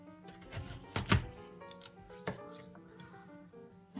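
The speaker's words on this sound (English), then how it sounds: "So I peeled my carrot earlier and I'm just going to cut it up" A kitchen knife cuts a large peeled carrot in half on a board, one sharp thunk of the blade striking through, then a lighter tap, close and clear over faint background music.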